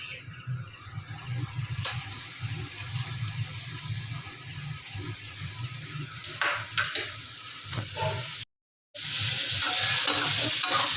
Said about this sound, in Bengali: এবার এতে অ্যাড করব আমরা পেঁয়াজ কুচি